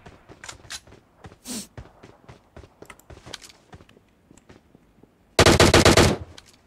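A fast burst of automatic gunfire in the PUBG battle-royale game on the Erangel map, loud and close, rattling for about a second after quieter footsteps and scattered game sounds.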